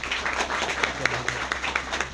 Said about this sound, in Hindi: इनके लिए थोड़ा ताली बजा दीजिए आप लोग।